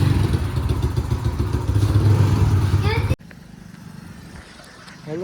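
A CNG-powered motorcycle on a Char Dham pilgrimage ride drones with a mid-pitched engine and road noise under people talking, then the sound abruptly drops to a much quieter background.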